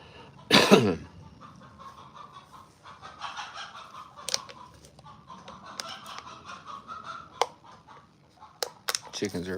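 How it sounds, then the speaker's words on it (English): Chickens cluck and squabble at a distance on a ranch, with scattered irregular squawks, a sharp cough-like burst early on and faint background noise between the calls. "Chickens are having a spat down there, it sounds like."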